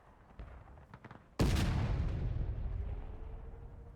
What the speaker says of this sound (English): still a very good counter battery shot